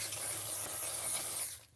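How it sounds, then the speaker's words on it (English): Hairspray from an aerosol can sprays in a steady hiss for about a second and a half, close and fairly loud, at a spider indoors, then cuts off abruptly. "I'll just spray everything with hairspray."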